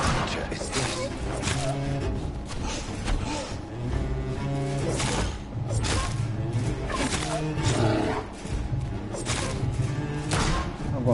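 Wolf creature in the video game Vampyr roaring and snarling through dense, loud game audio with thuds and crashes, a continuous chaotic fight soundscape.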